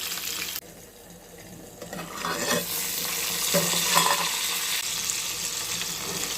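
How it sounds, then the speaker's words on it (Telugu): Chicken pieces sizzle in hot oil in a pan. A steady, close frying hiss is broken by a few stirring scrapes and bursts of bubbling, with no one speaking. "ఆయిల్ వేడయ్యాక చికెన్ పీసెస్ వేయాలి. చికెన్ వేసాక 5 మినిట్స్ ఉడకనివ్వండి."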